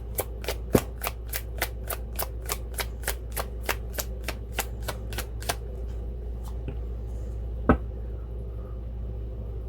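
Tarot cards riffled in a steady run of about twenty quick crisp snaps over six seconds, then a couple of isolated card taps after a pause, close and clear with no talking.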